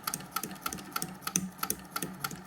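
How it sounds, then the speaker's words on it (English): A treadle sewing machine stitching binding through a binder attachment runs at a slow, even pace, its needle thumping in a regular rhythm of about three beats a second, close and alone. "I'm going to try and treadle slowly, because while it's still stitching"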